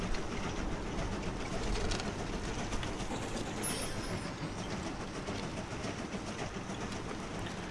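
Toy train rolling along its track in the Mini Trains video game, a steady clattering rumble with faint wheel clicks running continuously at even loudness, no voices.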